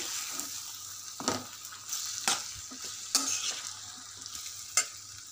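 Eggplant and tomato pieces are stirred in a hot pan, with scraping spoon strokes every second or so over a soft, continuous sizzle.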